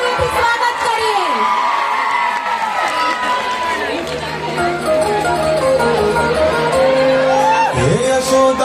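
Audience at a children's school program cheering and whooping, a loud crowd noise that runs throughout alongside children's voices and music.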